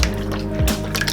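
Liquid egg replacer pours into a vegan bread pudding mix in a bowl, a short close wet splash and gurgle that briefly swells, then fades.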